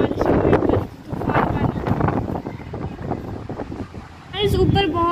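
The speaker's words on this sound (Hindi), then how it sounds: "बहुत ही तेज हवा है" Strong wind roars and buffets the microphone in heavy gusts, with someone talking through the noise.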